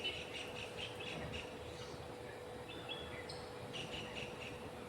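Faint, scattered bird chirps and short calls over a steady low hum and background rumble, distant and intermittent.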